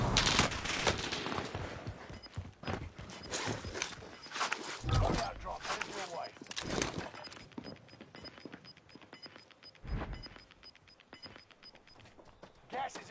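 Rapid gunfire bursts and fusillades in an online shooter game, dense and continuous through most of the stretch with footsteps, ending in sparser shots, while a player talks over it.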